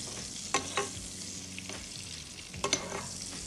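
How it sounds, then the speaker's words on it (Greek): Zucchini being stirred in a pan as they fry lightly in margarine, with a soft steady sizzle and a few distinct utensil scrapes and clacks near the start and end. "Βάλαμε τα κολοκύθια, θα τα ανακατέψουμε λίγο."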